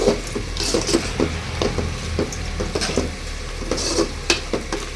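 Tomato thokku with coriander being stirred in a pan, close, steady scraping and clacking of a utensil over a low sizzle, with repeated soft knocks against the pan.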